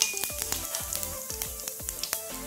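Whole cumin seeds hit hot oil in a wok and sizzle briskly, a steady hiss punctuated by rapid popping crackles, close and fairly quiet with no talking.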